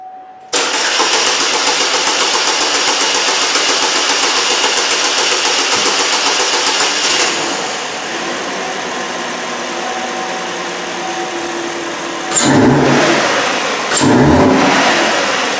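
A Chevy Malibu with a 2.4 engine cranks and catches, then runs loudly and steadily nearby, settling into a lower idle before two sharp revs near the end, with no talking.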